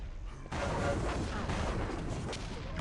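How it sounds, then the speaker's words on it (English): Rocket launcher fire and explosions in an esports arena shooter finals match, a sudden loud blast followed by rumbling booms and chaotic combat noise, with a commentator's voice running underneath. "Nice rockets from Lost Cause."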